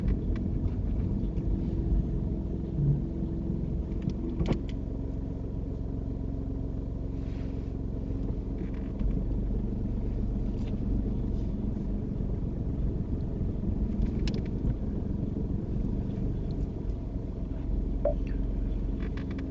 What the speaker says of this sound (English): could you drive the car forward into a bay of your choice?